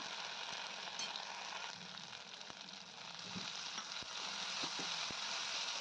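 Chopped vegetables and tomato sauté in a pan for a potato and bottle gourd dish, a steady, quiet sizzle with occasional soft clicks of stirring and no talk.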